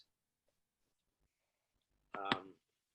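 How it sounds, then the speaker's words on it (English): A mobile phone goes off with one short, bright electronic tone burst after near silence, loud and close. "my phone's going off here"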